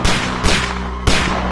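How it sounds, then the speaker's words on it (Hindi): Three sharp, loud movie gunshot effects in a Hindi comedy film, each a sudden crack with a brief ringing tail, spaced unevenly within a second and a half. "लगता है कोई गोली चला रहा है। हम पे?"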